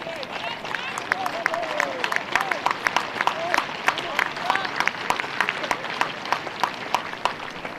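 Crowd at a county cricket ground, Somerset versus Surrey, breaking into steady applause after two wickets fall, many hands clapping in a continuous busy wash with scattered sharper claps and a murmur of voices underneath.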